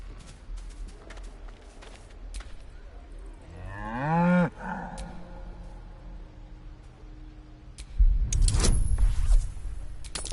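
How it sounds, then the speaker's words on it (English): A single drawn-out cow moo rises mid-clip over steady outdoor background noise, followed a few seconds later by a louder burst of rustling or clattering. "Did that cow just give you"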